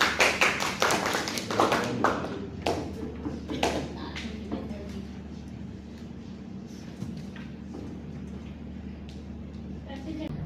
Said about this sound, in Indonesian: Tepuk tangan untuk Ami dan Nanda.